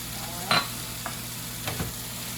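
Diced pimentos get stirred around a hot pan with a spoon, a soft continuous sizzle under a few sharp scrapes and taps against the pan, no voices.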